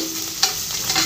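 Ginger garlic paste sautés in a pan for fish biryani, a soft steady sizzle with a couple of brief stirring scrapes close by.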